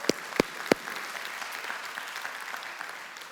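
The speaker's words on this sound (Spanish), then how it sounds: "Vamos a darle un fuerte aplauso al Señor por eso." Church congregation breaks into applause, a few sharp, close claps at the start, then a thick, even patter of many hands that continues steadily to the end.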